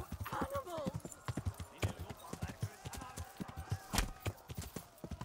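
Horse hooves clop in a steady galloping rhythm in the video game Kingdom Come Deliverance, loud and close, with a brief whinny near the start and someone talking over it.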